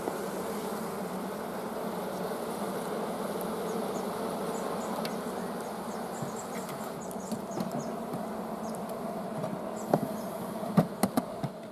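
Honeybees buzz around an opened beehive, a dense continuous drone close by, with a few sharper individual bees zipping past near the end.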